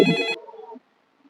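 A phone ringtone of an incoming call gives one short, bright, tonal burst at the start, then cuts off and leaves faint residual sound and near silence.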